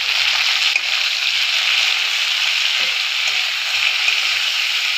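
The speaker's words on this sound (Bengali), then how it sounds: "এবার ভালো করে একটু ভেজে" Turmeric, chilli powder and cumin powder sizzle and fry in oil in a pan for a drumstick and potato curry with mustard-poppy paste, giving a steady close hiss with faint low thumps of stirring.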